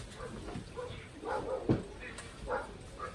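Several dog barks and yips scattered through the clip, moderately close, with a louder sharp bark midway and some background talk.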